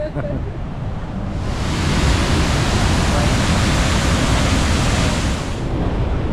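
Niagara Falls in New York roaring, a loud, unbroken broadband rush of falling water that swells fuller after the first second and holds steady, with faint voices beneath it at the start.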